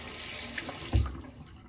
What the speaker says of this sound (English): Do a quick rinse here.